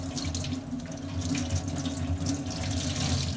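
A kitchen cloth being washed under a running kitchen tap, a steady, close splashing stream of water into a sink with slight sloshing variations as the cloth is handled, no voices.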